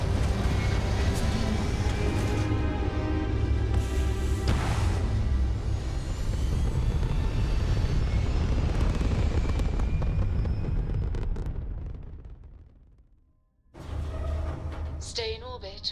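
A starship lifts off in the video game Starfield with a loud, sustained roaring engine rumble and crackling thrust that fades out, followed by a brief return of engine noise and electronic sweeps.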